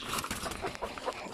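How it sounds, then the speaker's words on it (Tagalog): Backyard chickens, including a giant rooster breed, cluck and chatter near feeding time, with several birds calling in quick, overlapping bursts at close range. "ating patukain yung ating mga alagang mga manok"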